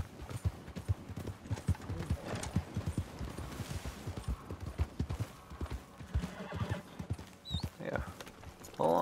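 Horse hooves clip-clop in a rapid, uneven rhythm in Red Dead Redemption 2, with a brief whinny near the end, mixed with game sounds and occasional talking.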